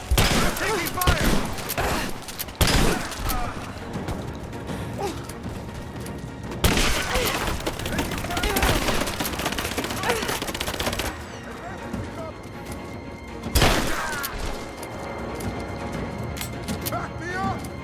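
Gunfire rings out during a firefight in Rise of the Tomb Raider: loud, dense bursts of automatic fire and single shots come in waves, mixed with game noise and voices calling out.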